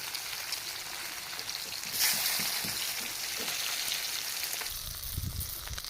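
Marinated catla fish sizzles in hot oil in a pan, a steady close crackle and hiss with a brief louder burst partway through and low clatter near the end.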